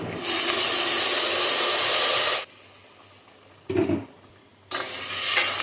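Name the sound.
hot water poured into sizzling sandge curry pan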